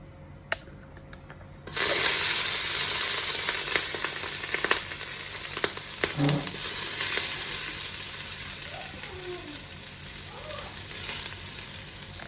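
Half-cooked rice for Hyderabad-style dum biryani hits hot ghee in a pot, and a loud, steady sizzle and hiss breaks out after a quiet start and carries on with faint stirring scrapes.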